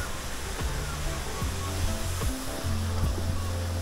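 Sea surf washing in steadily beside a wooden pier, a broad continuous rush of waves close by, with no voices over it.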